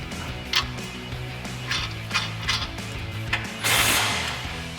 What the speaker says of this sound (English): we'll come in with a 19 mil socket on our impact and a 19 millimeter wrench and tighten that back down